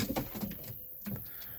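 Pigeons cooing, soft low throaty coos in short bursts with a pause between, close and fairly quiet against a faint hiss.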